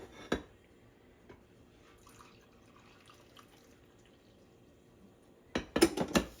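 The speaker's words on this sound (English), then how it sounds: "So I'm gonna go ahead and pour it in my cup." Freshly brewed coffee from a Black & Decker drip machine pours into a cup holding a little creamer: a brief splash at the start, a quiet stretch, then a short cluster of louder liquid splashes.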